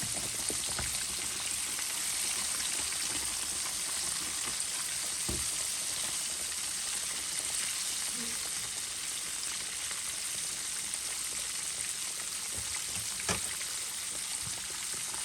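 Chicken frying in hot oil for crunchy Filipino-style fried chicken, a steady, dense sizzle and crackle running for the whole stretch, with a few sharper pops standing out and no talking.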